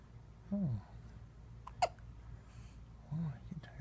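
A baby hiccups several times, small sharp catches spaced about a second or two apart, close and fairly soft over a quiet room hum.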